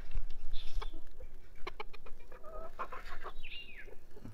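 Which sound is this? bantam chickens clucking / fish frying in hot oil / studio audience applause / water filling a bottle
bantam chickens clucking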